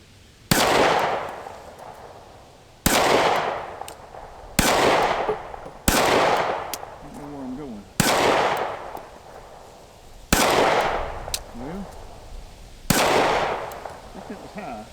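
Pistol shots from a SCCY CPX2 Gen 3 fired at small steel plates on a range: seven sharp, loud reports spaced a couple of seconds apart, each with a ringing decay.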